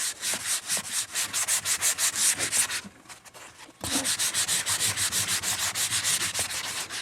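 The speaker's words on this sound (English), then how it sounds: "So I'm going to sand it for a little." A wooden gun stock is rubbed with 120-grit sandpaper in fast, even back-and-forth strokes. The rasping is close and loud, with a brief quieter pause in the middle before the strokes start again.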